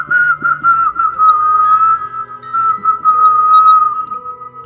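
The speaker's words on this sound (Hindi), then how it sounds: "सीटी बहुत अच्छी बजाता है तू।" A person whistles a sustained, wavering melody close to the microphone, one steady clear tone held almost throughout with slight pitch bends and short breaks, and no talking over it.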